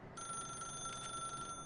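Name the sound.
telephone ringing in the video game The Stanley Parable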